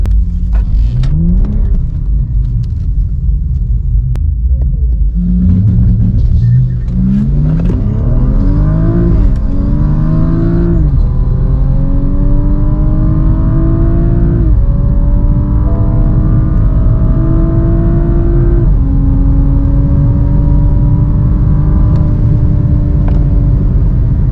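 A 500 WHP Mitsubishi Evo 8 at a drag strip launch revs loudly again and again, its engine climbing in pitch through repeated rising pulls before settling into a sustained high rev, with no talk.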